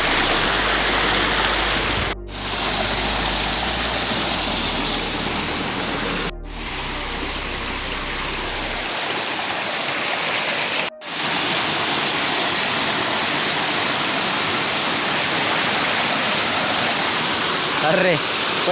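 A rain-swollen monsoon stream in the Konkan countryside rushing and roaring loudly and continuously, with a few brief dropouts and a low rumble early on.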